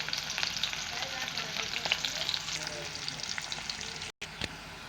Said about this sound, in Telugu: ఆనియన్ బాగా గోల్డ్ కలర్లో వచ్చేదాకా ఫ్రై కానివ్వాలి.